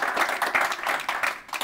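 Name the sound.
audience applause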